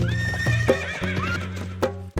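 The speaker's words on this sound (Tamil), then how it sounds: "குதிரை வருது பாருங்க" A horse neighs and its hooves clip-clop over a steady, droning musical backing, with a sharper whinny burst near the end.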